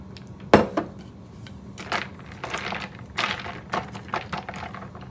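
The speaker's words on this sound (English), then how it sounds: "I just pour it right over my ice, just like this." A drink is poured over ice into a cup nearby, with a sharp clatter at the start followed by a series of uneven cracks, clinks and thunks from the ice and cup.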